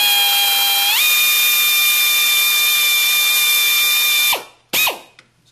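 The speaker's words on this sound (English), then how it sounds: "drill down." A power drill bores a screw hole into the shell of a Tippmann Model 98 paintball gun, a loud steady high whine that winds up, holds for several seconds, then cuts off with a brief second burst.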